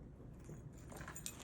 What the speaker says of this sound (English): Let me put my keys inside.